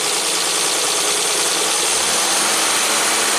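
Engine of a 1967 Triumph GT6, parked since 1999, running at raised RPM in a steady, loud, continuous broadband roar with no speech over it.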